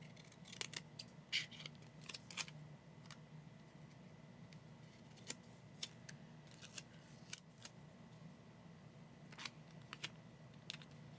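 Scissors trimming paper for a planner, a series of quiet, crisp snips coming in irregular clusters, close by and alone.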